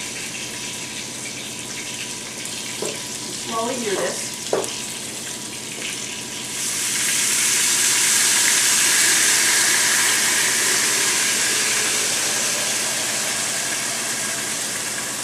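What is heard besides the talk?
crushed tomatoes poured slowly into hot pan, sizzling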